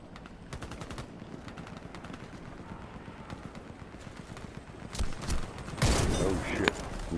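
Gunfire in the shooter game Warface: bursts of rapid automatic shots and scattered cracks, with a louder flurry near the end, over a busy background.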